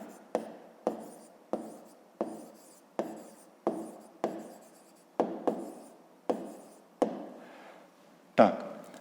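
A pen writes a maths answer by hand on paper, making a steady series of about a dozen crisp, evenly spaced strokes close up, with one louder scratch at the end.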